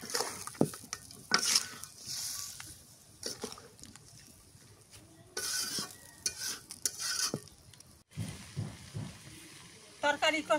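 Goat meat curry with green banana is stir-fried in a pan, with soft, scattered sizzling and the scrape and clink of a spoon stirring at intervals, fairly quiet and close.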